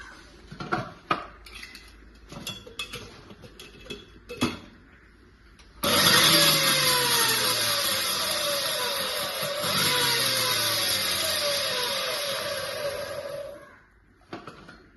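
A mixer grinder jar crushes chillies in a loud whirring burst that runs for about eight seconds and then cuts off, with softer clinks and handling sounds of the jar before it starts.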